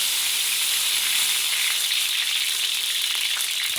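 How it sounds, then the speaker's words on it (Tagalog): Oil heating in a pan before frying for a Filipino crispy pata fried rice, giving a dense, even crackling sizzle throughout, close and constant. "Maglagay tayo ng mantika, dami-damihan na natin kasi magsiprito tayo dito"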